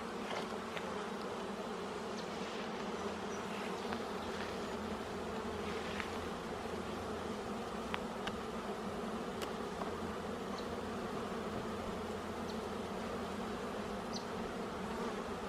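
Honey bees buzzing from an open beehive during an inspection, a close, continuous droning hum with steady intensity and occasional individual bees passing near.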